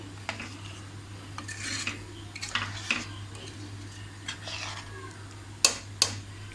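Black-eyed beans and potato being stir-fried with salt in a pan for a Malvani-style bhaji: scattered scrapes and light clinks of a spatula against the pan at an uneven pace, over a low steady hum.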